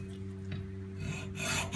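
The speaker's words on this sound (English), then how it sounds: "Hacksaw." A hacksaw rasps through a brass and aluminium alloy BBQ gas regulator held in vice grips. The scraping strokes are close and continuous over a low steady hum, growing harsher toward the end.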